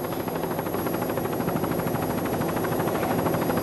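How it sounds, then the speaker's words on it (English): A 24-foot Skater racing powerboat with twin 200 horsepower Mercury outboard motors at a 1988 offshore race, a loud, steady, droning engine roar with a fast pulsing beat that holds unbroken throughout. "24-foot skater is powered by twin 200 horsepower Mercury outboard motors"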